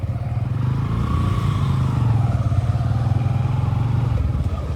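Two 125 cc motorcycles, a Honda Hornet 125 and a Bajaj Pulsar NS125, pull hard together in third gear on a road, the engines droning loud and close with a steadily rising whine.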